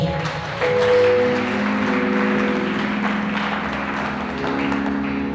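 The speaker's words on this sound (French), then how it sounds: "On peut applaudir pour la maman" A church congregation bursts into sustained applause for a mother, a broad continuous clatter of many hands that swells after a moment and holds steady, with sustained musical tones droning beneath.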